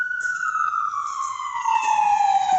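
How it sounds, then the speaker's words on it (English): Loud wailing ambulance siren on a road, a steady sweeping tone that slowly falls in pitch as the vehicle passes close by, with no talk. "Ambulance."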